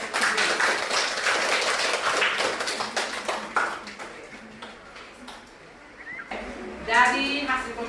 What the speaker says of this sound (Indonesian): Jadi kita berikan aplaus untuk diri kita sendiri